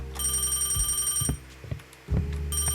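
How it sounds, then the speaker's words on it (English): A telephone rings in bright electronic bursts in the video game Crime or Punishment, separated by short pauses, with a few soft clicks between rings. "Another phone call, one moment."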